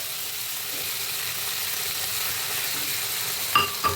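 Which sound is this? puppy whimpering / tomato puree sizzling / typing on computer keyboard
tomato puree sizzling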